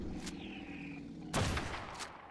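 Gunshots fired in the video game ARK during a night raid: a sharp shot near the start, then a louder burst about halfway through followed by another report, all over a steady low game background.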